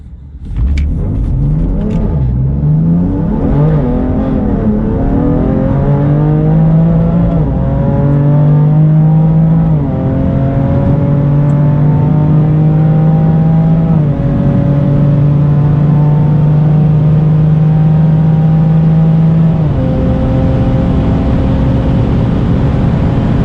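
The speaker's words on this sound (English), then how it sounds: "I'm just going to do a soft launch and then floor it when I'm into third" A Mosselman hybrid turbo BMW F80 M3 pulls hard at full throttle from a soft launch, its loud engine note climbing steadily through several gear changes, each shift briefly dropping the pitch before it rises again.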